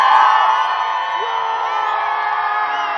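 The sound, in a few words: crowd of employees cheering at New Glenn launch webcast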